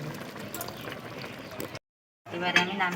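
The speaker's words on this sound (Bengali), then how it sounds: "আমার 1 মিনিটের মতন প্রায় ফুটে গেছে" Rui fish mustard curry bubbles in a pan, a soft continuous simmering hiss and pop, interrupted by a short silent gap, with a person talking over it.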